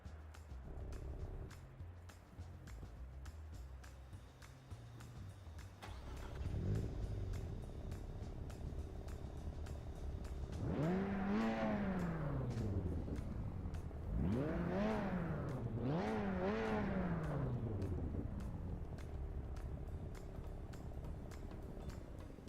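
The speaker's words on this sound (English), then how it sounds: "the idle sound is pretty accurate to a GTI" Volkswagen GTI engine in an Assetto Corsa EVO replay, a low steady idle hum that swells into three rising and falling revs in the middle before settling back to a smooth idle.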